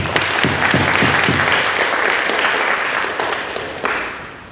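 Audience applause at a National Junior Honor Society induction ceremony, loud sustained clapping from a crowd in a hall that tapers gradually, with a few sharper individual claps standing out.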